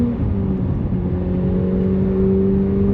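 A McLaren 750S engine holds a steady, loud, droning burble with a faint whir over it, continuous and close for the whole stretch, with no distinct flutter bursts standing out.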